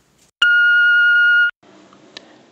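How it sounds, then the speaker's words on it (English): A voicemail beep sounds once as a loud, steady electronic tone held for about a second, then cuts off into a faint, low background murmur. "Please leave a message after the beep if you'd be so kind."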